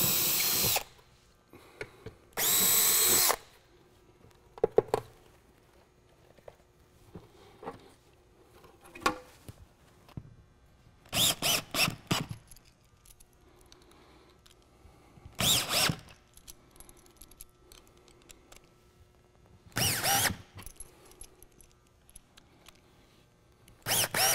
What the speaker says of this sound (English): You're going to pre-drill where you're going to put your anchors at.